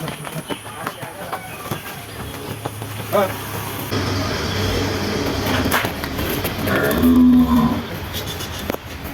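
Large Sahiwal bulls at a village farm sale near Jessore low once, briefly, amid steady outdoor background noise and a voice talking nearby.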